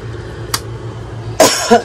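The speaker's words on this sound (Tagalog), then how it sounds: "Sorry po, sa aking ubo." Two short coughs, close and fairly loud, one brief burst then a pair near the end, over a low steady hum.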